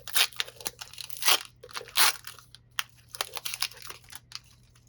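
A Pokémon trading card pack is torn open, its foil wrapper crackling and ripping in short, close bursts of crinkling and tearing, with a few louder rips among smaller rustles.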